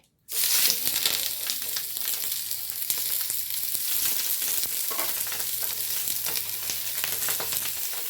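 Wrapped mackerel frying in an oiled pan makes a loud, continuous close sizzle that starts abruptly and holds steady throughout, with faint crackles and occasional utensil scrapes and no voices.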